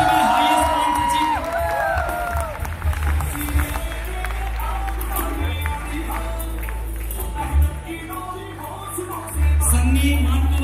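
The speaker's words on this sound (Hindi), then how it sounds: "जोरदार तालियां" A crowd at an award ceremony in New Delhi claps and cheers, with whoops and voices rising over a thick bed of applause while an announcer speaks over a loud, booming sound system.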